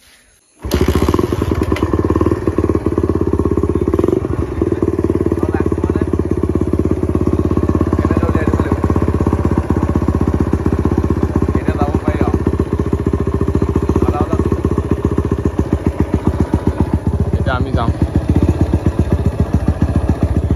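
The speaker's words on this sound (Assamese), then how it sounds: "সেইকাৰণে বাইক লৈ যাম" A motorcycle engine runs steadily and loud throughout, starting abruptly after a brief quiet moment, with a low continuous rumble, occasional thumps and clatter, and someone speaking briefly over it.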